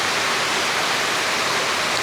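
Heavy rain and flowing water at a mini farm, a dense, loud, steady broadband hiss that stays even for the whole stretch with no voices.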